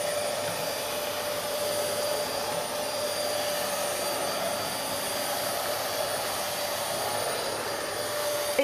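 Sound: Hoover Globe GL1110 upright vacuum cleaner picking up loose tea

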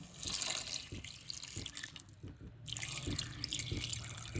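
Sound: water being poured into pot

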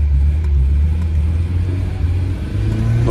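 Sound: car idling with rattling exhaust

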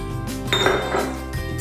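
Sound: whisking cake batter in a bowl

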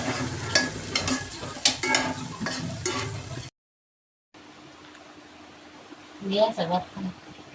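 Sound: shrimp frying in a pan

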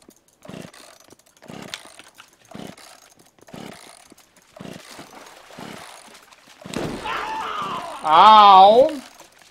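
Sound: chainsaw in video game The Culling

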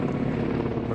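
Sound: Ka-52K Katran naval helicopters flying over

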